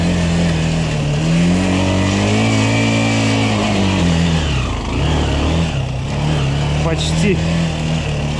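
A Minsk X250 enduro motorcycle labours over rocks, its engine droning and revving up and down steadily throughout, close and loud, with a voice speaking briefly over it.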